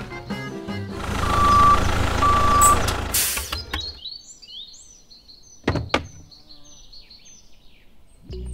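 A truck carrying a candy making machine backs up with steady, loud reversing beeps over engine rumble, then the noise stops and a few sharp clunks and door-like thuds follow in quieter surroundings.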